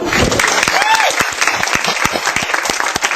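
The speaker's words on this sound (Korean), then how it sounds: "이쪽에서 박수 한번" Loud audience applause fills a theater during the musical Oh Happy Day, dense clapping from a full house that continues steadily throughout with some voices mixed in.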